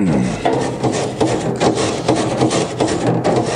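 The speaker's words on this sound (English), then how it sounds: "giving it a good scrub until you're happy with how clean it is" A brush scrubs a Traeger barbecue grill coated with all-natural cleaner, giving rough, rhythmic back-and-forth rasping strokes, close and loud, with no voices.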